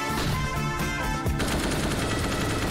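Rapid bursts of automatic gunfire crackle densely, a CS:GO firefight with continuous loud shots and no talking.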